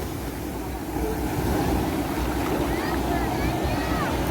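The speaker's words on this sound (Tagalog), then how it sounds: "Yung hampas ng alon." Waves crash at Kata beach in Phuket, Thailand, in a continuous roar of surf that swells slightly partway through, with wind noise and a voice speaking over it.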